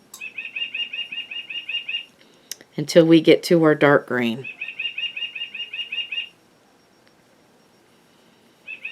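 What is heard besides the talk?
bird clock chiming with bird song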